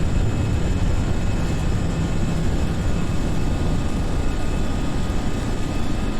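Simulated Airbus A320 with sharklets taking off in a flight simulator, a steady, dense engine roar that holds constant without a break or change in pitch.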